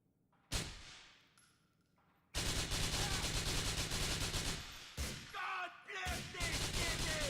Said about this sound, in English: blind fire once again working quite well. It's pretty good with these automatic weapons.